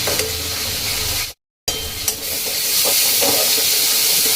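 Spice masala being stir-fried in oil for a vegetable kofta curry sizzles and hisses up close, with scraping stir sounds, a brief break in the middle, then a louder, continuous frying sizzle.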